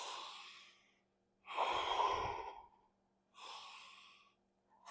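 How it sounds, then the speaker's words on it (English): Slow, deep breaths during a yoga core-flow breathing exercise: a long exhale fading out, then a fuller audible inhale-exhale and another breath, close and quiet, with silent pauses between. "Breathing, following the breath."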